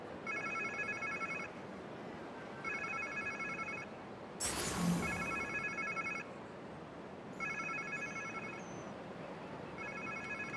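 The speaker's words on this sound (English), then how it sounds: "Sounds like somebody's phone." A phone ringtone in Marvel's Spider-Man 2 chirps in repeated electronic bursts over a low, steady game soundtrack, broken midway by a short loud whoosh.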